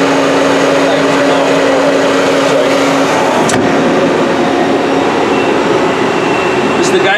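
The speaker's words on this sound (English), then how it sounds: "This is gonna be 2500 on the main spindle." A Citizen M32 CNC Swiss lathe runs its main spindle at 2500 RPM, heard from about 7 inches away as a loud, steady machine hum with a constant whine. A brief click sounds partway through.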